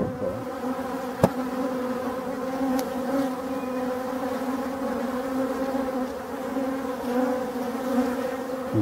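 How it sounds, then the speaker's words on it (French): Drone honeybees buzz steadily around crowded forest beehives, a dense, continuous hum close to the listener with no speech. "remplies, remplies de bourdons, de faux bourdons."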